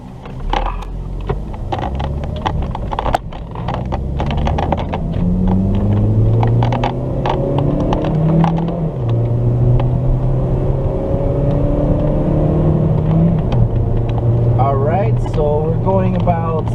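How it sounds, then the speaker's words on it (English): Car on a test drive, steady engine drone and road rumble throughout, with gear-related pitch shifts and a person talking over the cabin noise. "let's go on a little test drive"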